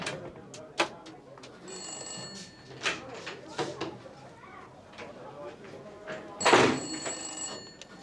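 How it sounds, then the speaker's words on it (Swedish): A telephone rings a few times in a 1980 Swedish comedy film scene, with bursts of ringing between voices speaking, and a louder clattering noise near the end. "Detta är doktor Levanders automatiska telefonsvarare."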